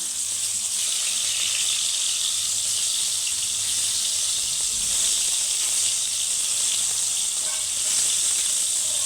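Soya chaap fries in a pan with a steady, loud, high hiss of sizzling oil that holds evenly throughout, with no talking.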